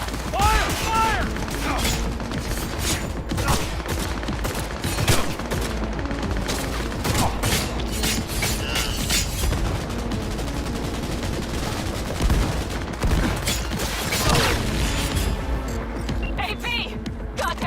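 Dense gunfire fills a Cyberpunk 2077 firefight: rapid automatic bursts and sharp single shots crack close and loud, with mechanical clanks and shouting voices mixed in.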